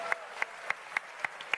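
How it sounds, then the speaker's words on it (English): Sparse, evenly spaced claps ring out at an Elite Dangerous Frontier expo, about six sharp hits over a second and a half, more like a few people clapping than a full audience. "Round of applause, please, for the Chieftain."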